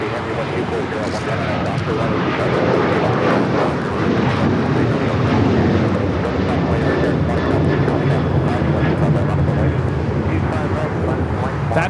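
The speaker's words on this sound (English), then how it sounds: "That is American Airlines 1084 taking off to Chicago on the 737-800." American Airlines Boeing 737-800 jet taking off at Los Angeles airport, a loud continuous broadband engine roar that stays steady throughout, with a voice talking over it.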